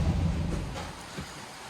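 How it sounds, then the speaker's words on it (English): Rain begins to fall as low thunder rumbles, a dense steady wash with a deep rolling boom at the start, and no voices. "It's starting to rain."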